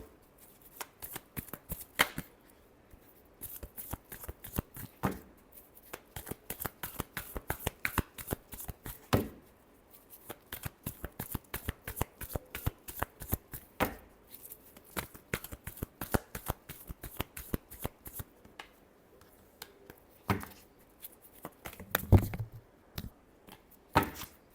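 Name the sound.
shuffling cards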